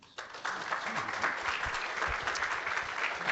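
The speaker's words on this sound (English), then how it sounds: "please give a round of applause to our first CXO Lightning speaker" Applause from a meetup audience for a lightning-talk speaker starts abruptly and continues as a full, steady patter of many hands, with faint low bumps beneath.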